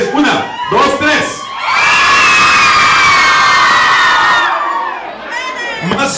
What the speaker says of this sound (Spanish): ahora grito de las mujeres a la de tres, muchachas